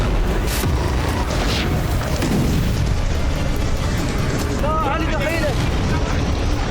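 Deep booming blasts roll out over a loud, dense rumble, with a few sharper bursts cutting through the continuous noise.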